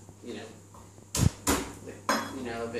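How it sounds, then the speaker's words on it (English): Garlic tapped with the back of a kitchen knife on a board while making butternut squash and sweet potato soup, three sharp knocks, close and fairly loud, with faint background noise between them. "Just give it a tap with a back knife like that"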